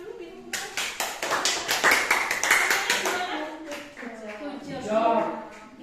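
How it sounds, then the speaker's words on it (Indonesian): Brief burst of hand clapping from a small group at a teachers' coaching session, mixed with overlapping voices and laughter, fading as talk resumes. "Tepuk tangan dulu"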